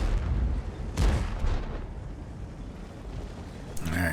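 A tank cannon shot in World of Tanks, on the Ruinberg map: one heavy, close boom with a rumbling tail, a second quieter thud soon after, and another sharp burst right at the end over steady battle noise.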